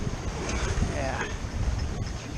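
Wind buffets a small sailboat at sea in a steady, rough roar against the microphone, with faint water sounds and a voice speaking underneath.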